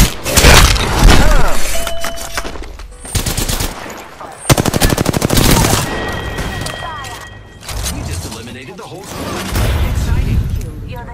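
Dense automatic gunfire in Apex Legends, rapid bursts of machine-gun fire with sharp impacts and shattering, loud and close, repeating through the whole stretch while a voice talks over it.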